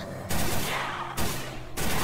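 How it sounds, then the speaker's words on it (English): Bursts of rapid automatic fire from a machine gun in the Roblox game Project Lazarus Zombies, three loud sustained volleys separated by short breaks, close and dense with no clear talking. "Wait, is that a new gun? Is it a machine gun, though?"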